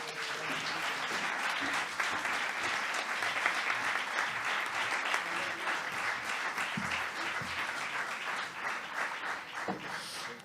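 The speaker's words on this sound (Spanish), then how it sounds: "os voy a pedir un fuerte aplauso directamente desde Neptuno" A live audience claps steadily as Juan Luis Cano, wearing an Atlético de Madrid shirt, is welcomed on stage at an acoustic concert in a venue; sustained, moderately distant applause runs throughout at an even level, easing slightly near the end.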